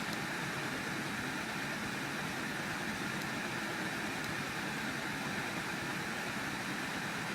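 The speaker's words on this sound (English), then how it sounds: "shaking pretty violently because of the engine jumping around" A cold-started Mini Cooper R56 engine idles steadily and roughly, stumbling with a low rumble and broadband mechanical noise, continuous and fairly close, with no voices.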